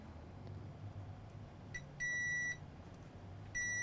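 A multimeter set to diode mode, probes across a shorted capacitor on a 2013 MacBook Pro logic board, gives short, sharp electronic beeps, two distinct tones with a brief one before, over faint room hiss.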